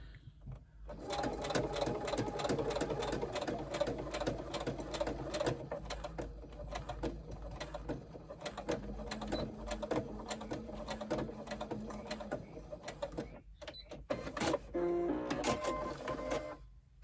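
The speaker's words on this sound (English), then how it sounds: "I'm only sewing the outer unit at this point." A sewing machine stitches fabric in a long continuous run, close and steady, with faint rhythmic chatter and a short stop near the end, followed by a few clicks.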